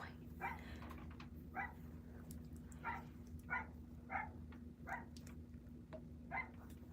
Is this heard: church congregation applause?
no